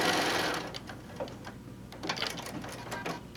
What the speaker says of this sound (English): we'll come down and sew through our neutral